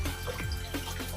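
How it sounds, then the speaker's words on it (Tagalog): Sweet potatoes are washed under running water, with a close, continuous splashing and gurgling of tap water into a sink and no talking. "So, first step natin ay hugasan natin yung kamote."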